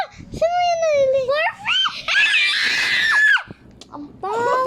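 Children playing Roblox shriek and scream in loud, high, sliding bursts, with excited child chatter and squeals between the screams.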